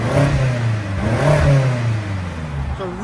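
A catless 2015 BMW X5 M with a 570 hp V8 revs loudly up close, its deep exhaust note rising and falling through a couple of throttle blips before dropping back.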